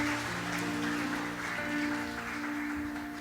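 A church congregation at a Sunday service applauds the choir, a steady wash of many hands clapping that continues evenly throughout at moderate volume, with a faint low hum underneath.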